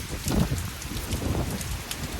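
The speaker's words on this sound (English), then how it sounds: "It is raining a lot." Heavy rain pours down outdoors in a steady, dense wash of drops close by, with no talk over it.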